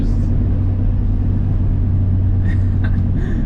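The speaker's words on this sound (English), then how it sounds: "being able to light the tires up like that" A VW MK3 with a swapped 1.8T engine spins its tires, giving a loud, steady engine roar and low rumble throughout, with a brief voice near the end.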